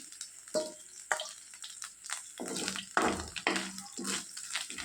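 Dry fish pieces frying in oil in a pan for an eggplant curry, a loud crackling sizzle with bursts and stirring scrapes, close up and without speech.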